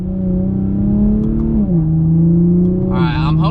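Turbocharged Toyota Supra engine revving up with a strong steady drone whose pitch dips and then holds, a brief whooshing burst near the end, close and loud while a voice speaks over it.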